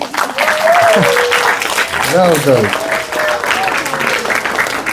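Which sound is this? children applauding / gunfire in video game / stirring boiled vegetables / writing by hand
children applauding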